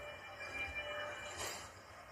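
A Jakarta MRT train runs with a steady rolling rumble and a faint high whine, rising briefly toward the end. The level stays low and even, with no talking.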